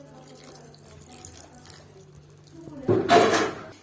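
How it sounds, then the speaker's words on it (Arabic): Hot water poured into a cooking sauce for a pasta dish, a short splashing burst of liquid near the end, loud and close after quieter kitchen background. "غادي نحركو مزيان هاد العصوص ديالنا حتى طيب، وغنضيفو شويه ديال الماء سخون"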